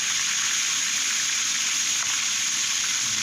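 Milkfish frying in hot oil with salt added to reduce spattering, a loud, steady, dense sizzle that fills the whole clip with no talk.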